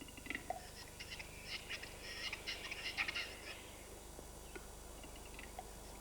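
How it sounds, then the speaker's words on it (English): A male capercaillie calls faintly across snowy forest clearings, a series of distant clicking and popping notes that rise into a brief, scratchy flurry over soft outdoor ambience. "The male's call echoes across the clearings."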